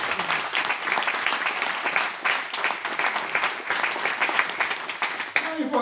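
An audience claps steadily through a political speech in Karditsa by a candidate for party leader, a dense, sustained crowd applause with a voice briefly heard near the end.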